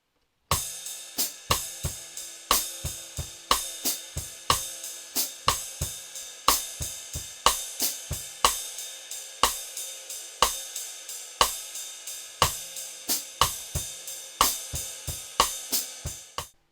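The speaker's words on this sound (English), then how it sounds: "So now if we play that against our foot ostinato with our kick drum and our hi-hat" A bossa nova drum groove played on a kit: steady rim clicks and hi-hat over a kick ostinato with ride cymbal, close and even, repeating without a break and no voices.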